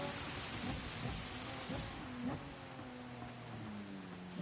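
Rain during a racing video game: a dense, continuous hiss of falling rain with a low engine hum running underneath, steady and fairly loud throughout, with no voices.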